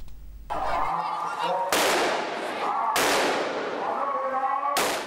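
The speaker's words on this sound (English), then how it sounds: "This is the moment our producer became trapped in the middle of a gun battle." Loud sharp gunshot bursts ring out several times in a street gun battle between pro- and anti-government protesters in Thailand, each crack followed by a long echoing decay under a steady crowd noise.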